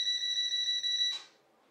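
A charging phone gives a steady electronic beep tone with bright harmonics when touched, holding about a second, then cutting off, leaving faint background hiss.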